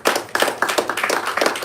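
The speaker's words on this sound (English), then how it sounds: "Please let's give her a round of applause." Applause from a small audience at a book reading event, a brief burst of steady, closely spaced hand claps that stays fairly loud throughout.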